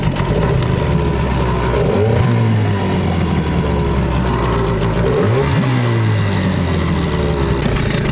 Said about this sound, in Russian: В принципе, мотор работает неплохо.